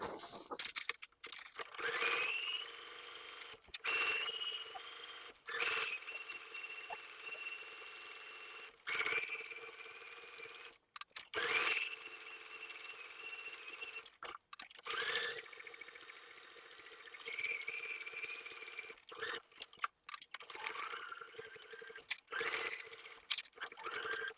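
A sewing machine stitching lines on paper with no thread, whirring in repeated runs of several seconds with a whining tone, broken by short pauses and paper rustles.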